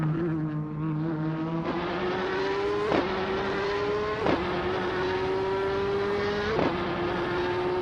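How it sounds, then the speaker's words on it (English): A Zytec Z11SN race car in a racing video game holds a steady high engine drone close by. The pitch climbs gradually through several upshifts, each marked by a brief crackle, and the engine runs loud and continuous with no pause. "Gravy Graves is driving an old Zytec Z11SN"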